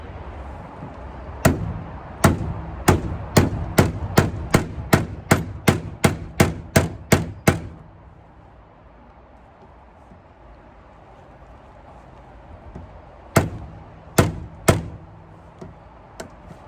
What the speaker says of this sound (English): You put it into the screw that's stuck, you whack it with a hammer